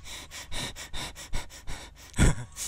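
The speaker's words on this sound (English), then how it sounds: "I'm breathing so fast." Fast, heavy breathing close up, a rapid series of about nine sharp breaths in a quick rhythm, ending with a louder gasp-like exhale.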